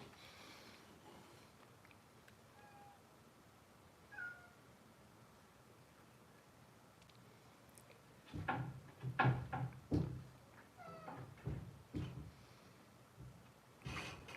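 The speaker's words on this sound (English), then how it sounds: "There's a cat trying to get through the door." A cat trying to get through a door, soft meows over a quiet background, followed by a cluster of knocking and rattling bumps against the door near the end.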